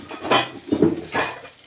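Steel cooking pots and dishes clanking in a home kitchen, three short clattering knocks in quick succession, close and fairly loud, with no talking.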